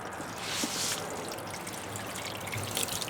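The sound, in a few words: water rinsing salt off dorado fish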